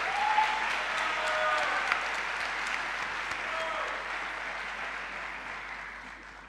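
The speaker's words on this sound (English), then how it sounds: "Go ahead and give yourselves a good loud cheer because you've earned it." Medical university graduates at a 2019 graduation ceremony cheer and applaud in a loud, sustained wave of crowd clapping and shouts that gradually tapers near the end.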